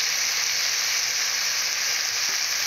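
Salt, turmeric and chilli powder are sautéed in a pan, producing an even, close hiss of frying that holds steady from start to finish without speech.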